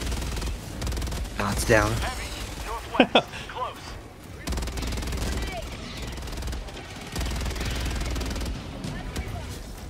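Sentry turrets firing in the video game Helldivers 2 in rapid automatic bursts mixed with explosions and a loud flurry of shots midway, under a player's voice talking over the action.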